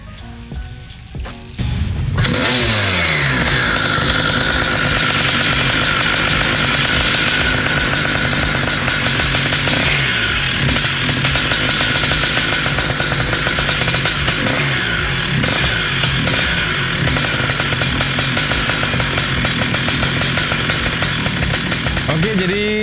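A modified two-stroke Vespa racing engine, a scooter fitted with a racing-style build, bursts into a loud, raspy, high-pitched revving after a brief quiet start and holds a buzzing, fluctuating drone close by for the rest of the clip.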